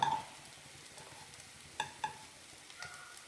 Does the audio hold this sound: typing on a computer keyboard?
no